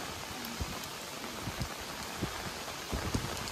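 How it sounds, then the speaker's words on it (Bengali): Rain falling steadily on a rainy day, a soft, continuous patter with scattered heavier drops landing nearby, faint and even throughout with no voices. "বৃষ্টি নামছে"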